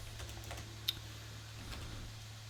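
Quiet, scattered clicks of typing on a computer keyboard sound against a low, steady hum, with one sharper keystroke near the middle and no voices.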